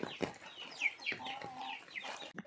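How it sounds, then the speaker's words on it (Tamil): Several chickens cluck and chatter close by while feeding in the rain, short overlapping calls forming a busy flock murmur over a soft background. "இந்த பக்கம் கோழி பாய்ஸ் மழையில் நனைஞ்சிக்கினே சாப்பிட்டுன்னு இருந்தானுங்க."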